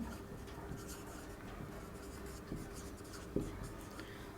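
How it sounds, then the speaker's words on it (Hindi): Chalk or pen writes on a board during a Class 8 maths lesson on linear equations, giving faint continuous scratching strokes with a few sharper taps. "यहाँ पर लिख रहा हूँ मैं"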